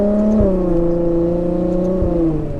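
Ferrari 812 GTS V12 engine cruising at low speed, a smooth steady drone with layered harmonics and slight shifts in pitch, close and continuous.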